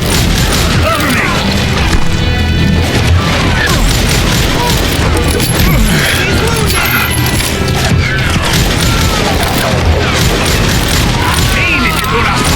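Gunfire and booming shots during a bandit showdown in the Western video game Call of Juarez Gunslinger, dense, loud and continuous under shouted voices and music.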